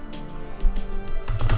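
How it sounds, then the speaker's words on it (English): Magic: The Gathering cards being shuffled by hand, a short burst of riffling paper flutters lasting under two seconds, close and moderately loud, with no talk over it. "Let me shuffle one more."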